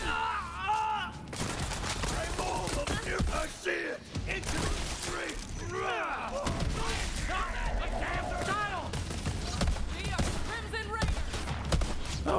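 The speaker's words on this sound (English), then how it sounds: "I think this is a shotgun" Shotgun blasts in Borderlands 3 amid a busy firefight, repeated loud shots mixed with chaotic game effects and mechanical clatter while a voice talks over the action.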